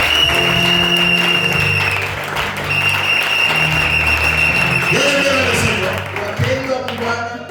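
A church congregation at a Sunday worship service breaks into loud, sustained applause, a dense wall of clapping with cheering voices mixed in, continuing strongly throughout before easing slightly at the end.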